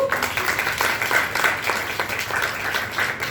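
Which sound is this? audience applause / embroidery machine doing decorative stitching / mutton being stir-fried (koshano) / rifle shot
audience applause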